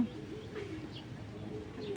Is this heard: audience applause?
no